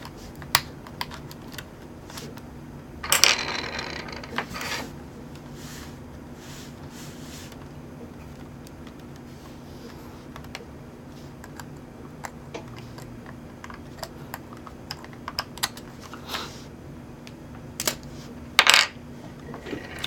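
Small clicks and light plastic and metal taps come from a wireless card being popped out of an opened Sony Vaio laptop during a ribbon cable repair, quiet close handling sounds scattered over a low steady hum.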